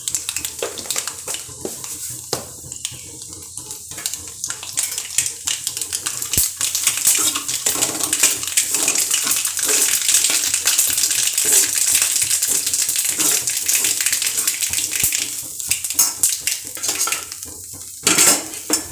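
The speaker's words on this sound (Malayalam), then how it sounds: "ഇപ്പം നമ്മുടെ ചട്ടി ചൂടായിട്ട് കടുക് ഇട്ട് കൊടുക്കാം." Mustard seeds crackle and splutter in hot oil in a pan, a dense, continuous run of close, bright pops, with a few sharp metallic clinks near the start and end.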